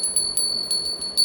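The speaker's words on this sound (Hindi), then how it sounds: "जैसे ये घंटी है" A small bell rings in quick repeated strikes, bright and clear, about six times over a second, alone with no talk.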